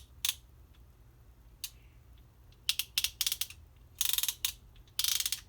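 An iCRIMP ratchet PEX cinch tool for stainless clamps clicks in short sharp bursts, single ratchet snaps at first, then quick clustered runs of clicks, close and fairly quiet with no talking.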